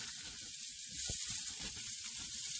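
Green beans hit a hot pan and sizzle with a steady, bright hiss, joined by a brief thud as they drop in, sounding close and continuous.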